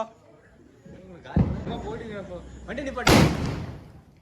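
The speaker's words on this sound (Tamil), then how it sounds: "பாப்பா போகிறான்டா நாட்டு வெடிடா" Two sharp, booming country firecracker blasts go off a couple of seconds apart at a Diwali celebration, loud and close, amid excited voices talking.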